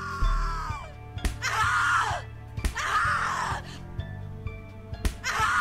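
Someone in the horror game The Cat Lady lets out a series of loud, anguished screams. Three or four long wailing cries fall in pitch, separated by short pauses and sharp thuds.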